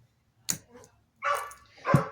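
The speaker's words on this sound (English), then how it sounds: "he hears that dog barking" A neighbour's dog outside gives a few short barks and a yip spread over two seconds, moderately close and alone without talk.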